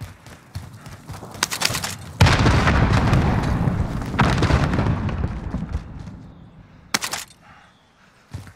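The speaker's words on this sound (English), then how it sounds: "Throwing nade." A thrown grenade explodes in Call of Duty: Warzone with a loud, close boom that rumbles on for several seconds, framed by bursts of rapid gunfire before and after.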